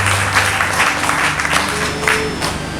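A church congregation at a Friday women's service bursts into loud sustained applause, dense clapping from many hands filling the room with a low hum beneath.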